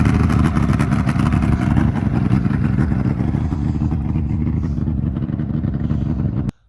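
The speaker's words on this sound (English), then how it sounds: "it's got a 2003 Mercury 225 two-stroke on it" A 2003 Mercury 225 three-liter two-stroke outboard on a 1999 Javelin Renegade 20 bass boat running loud and close, a rough, clattering steady drone that holds for several seconds before cutting off abruptly.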